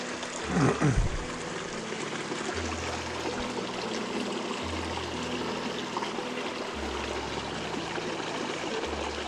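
Steady running water of a stream or waterfall on a mountain trail rushes continuously at moderate level, with a brief bump of handling noise near the start and a low hum underneath.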